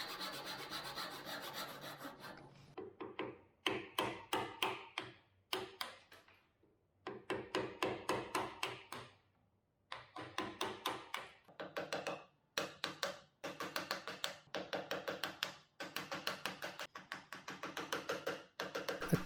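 Repeated scraping and rasping strokes as a screwdriver is used in place of a small chisel to pare out wood between saw cuts, coming in loud, close bursts with short pauses between them.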